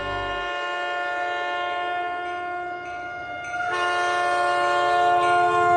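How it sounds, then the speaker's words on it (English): A train rumbles past with a sustained, loud horn blast that swells louder midway, steady engine drone underneath. "Everything seemed fine until 1 o'clock in the morning when a train zoomed by."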